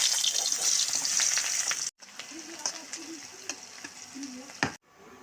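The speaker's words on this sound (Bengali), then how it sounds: "এবার আমি পেঁয়াজ রসুনটা ভেজে নিব" Onion and garlic sizzle in oil in a wok, a fairly quiet crackling hiss broken by brief pauses, with faint stirring and scraping sounds.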